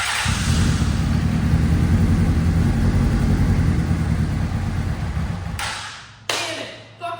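An abandoned Honda CBR600RR motorcycle with a faulty fuel pump runs with a steady, loud, close low engine drone, then cuts out near the end with a few short bursts.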